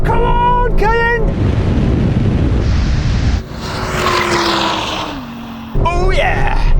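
A Porsche Cayenne Turbo GT SUV and an Audi R8 supercar drag racing, with loud rising engine revs and gear-change sweeps, a rushing wind-buffeted pass, then more revving under excited voices.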